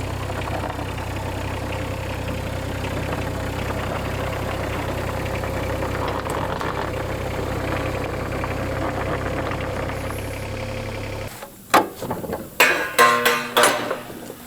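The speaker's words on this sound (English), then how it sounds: "it's a relatively small engine powering this excavator" A small diesel excavator engine idles steadily with a low, even rumble, then cuts off near the end, followed by a few sharp clanks and knocks.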